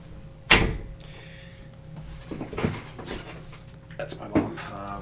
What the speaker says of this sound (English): let me close the door here.